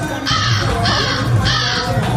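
A crow caws loudly and close by, three harsh calls in a row with only short gaps between them.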